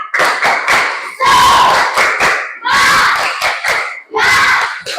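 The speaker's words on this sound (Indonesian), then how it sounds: "Beri tepuk semangatnya. Tepuk semangat." A classroom of children performs a rhythmic spirit clap, loud chanted shouts in unison punctuated by sharp bursts of clapping, repeating in short patterned phrases close up.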